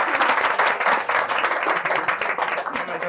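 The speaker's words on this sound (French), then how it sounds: "on va applaudir très très fort pour le public" A studio audience on a French-language talk show applauds loudly, with thick, sustained clapping and crowd noise at a constant high level.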